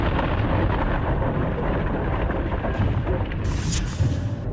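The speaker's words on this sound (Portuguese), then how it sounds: "não é surpresa que tenha provocado uma das maiores explosões do universo" A loud, sustained rumbling roar of a massive asteroid impact explosion, dense and booming, continuing without a break.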